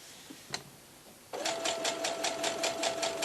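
A domestic sewing machine stitches quilt squares together for a baby blanket, a rapid rhythmic whirring chatter starting after a brief click and running steadily to the end, close and alone.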